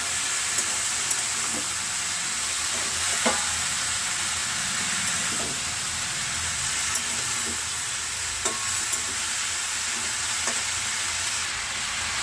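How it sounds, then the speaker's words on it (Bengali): Food frying with turmeric in a pan, a continuous bright sizzle with occasional sharp clinks and scrapes of a spoon stirring throughout. "হলুদ দিয়ে ভালোভাবে নাড়াচাড়া করে নেবো"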